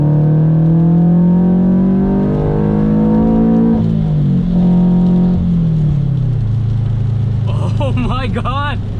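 A supercharged Subaru BRZ pulls hard at full throttle in third gear, its loud engine note climbing steadily in pitch, dipping briefly, then rising again, with a voice breaking in near the end.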